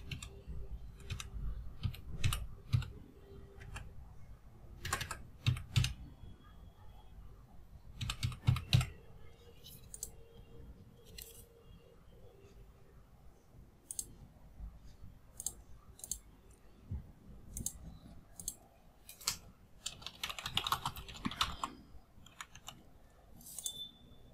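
Credit card details are typed on a computer keyboard, with irregular clusters of sharp key clicks and short pauses between bursts, close and clear with no talking.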